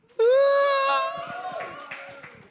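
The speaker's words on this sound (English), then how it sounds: "Give us a cheer, everyone listening in the room." A live poetry event audience in a room gives a loud cheer: a strong, sustained whoop rises at once, then trails off into scattered claps and murmurs.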